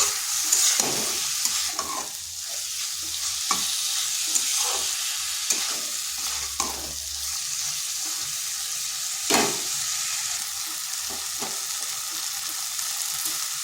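Yardlong bean and masoor dal curry stir-fried in a pan, a steady frying sizzle broken by repeated scraping strokes of a spatula, close and fairly loud with no talking.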